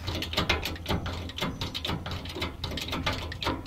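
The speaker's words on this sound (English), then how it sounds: "and then you just start jacking" A hand-cranked trailer jack ratchets steadily to raise a tiny house trailer, giving close, continuous metallic clicking and grinding at an even rhythm with no talk.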